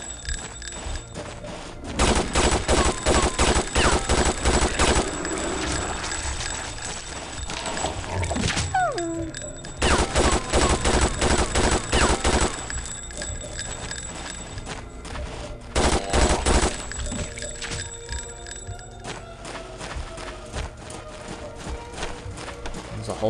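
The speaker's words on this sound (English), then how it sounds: "Ah, chain gun is so good." A chain gun fires in sustained, loud, rapid bursts in the PC game Vampire The Masquerade: Redemption, with several long volleys separated by short gaps and someone talking now and then between them.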